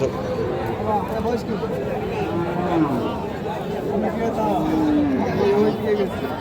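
Several cattle give low, drawn-out moos at moderate distance at a cattle market in Dhamoirhat, Naogaon, partly buried under constant crowd chatter and general market hubbub.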